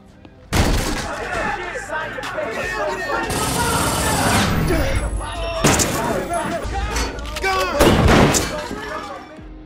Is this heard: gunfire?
yes